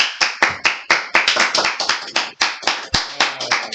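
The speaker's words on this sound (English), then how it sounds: "The clap is not loud enough." A small group in a classroom clapping in a steady run of sharp, distinct hand claps, close and fairly loud, with one brief low thump near the end.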